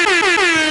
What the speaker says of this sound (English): Ooh, we got the air horn.